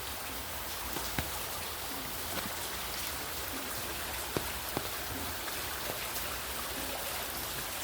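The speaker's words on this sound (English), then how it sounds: "Rain, rain, rain. Look at the water on the road." Rain falls on a wet road on Christmas Eve, a constant soft hiss with scattered sharper drips and splats standing out at intervals, moderately quiet and steady with no voices.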